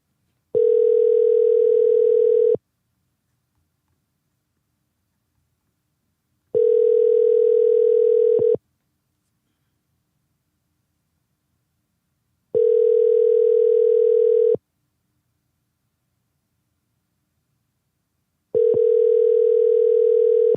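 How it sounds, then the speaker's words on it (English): A telephone ringback tone plays during an outgoing call, with four identical two-second steady tones separated by about four seconds of silence, clean and alone. "let me give him a call back."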